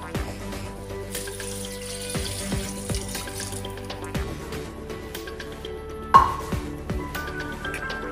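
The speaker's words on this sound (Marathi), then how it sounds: "यात आपण आता पाणी ॲड करून घेऊया" Water is poured into a pot of country chicken cooking in masala, a close splashing trickle with clinks and knocks from the vessel, plus one sharper metallic clatter near the end.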